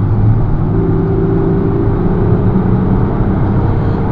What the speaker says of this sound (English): When you accelerate on this car, the engine makes a lovely howling noise.